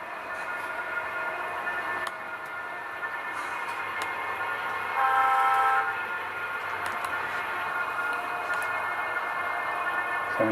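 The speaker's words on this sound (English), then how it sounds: "Little bit of extra dynamic brakes at the bottom of the hill." Model train diesel locomotive running downhill with dynamic brakes on, a steady high electric whine and hum holding for the full length, growing louder briefly midway, with faint clicks over it and no voices.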